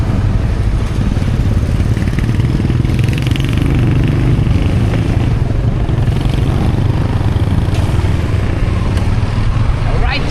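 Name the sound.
motorcycle engine running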